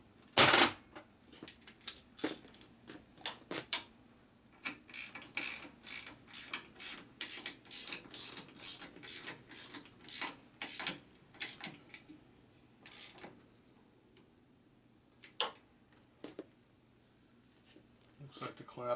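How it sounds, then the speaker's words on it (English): A wrench tightens a 5/8 nut on the front end of a 2001 Gilroy Indian motorcycle being rebuilt as a race bike, giving repeated close ratcheting clicks in quick bursts, with pauses between them and a few faint sounds in the background. "now I'm going to go ahead and tighten up my 5/8 over here"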